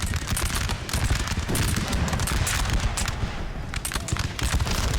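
Massed musket and cannon fire in a Napoleon Total War battle, dense rattling volleys and booms crackling almost without pause, loud and continuous, while someone speaks briefly over it.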